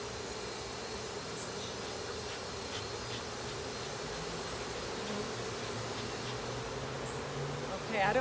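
Honeybees buzzing around a newly installed backyard hive, a steady, even droning hum with no speech, slightly louder near the end.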